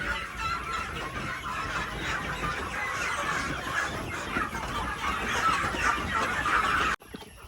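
Farm chickens clucking continuously at close range, a dense overlapping chorus of hens that stops abruptly at the end.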